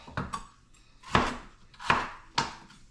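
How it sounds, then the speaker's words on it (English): Four sharp knife chops at an uneven pace, close by, as a blade goes through a potato on a cutting board. "Cut this one in half."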